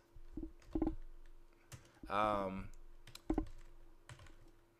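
Typing on a computer keyboard comes through as scattered quiet key clicks in short clusters, with a voice speaking briefly in the middle.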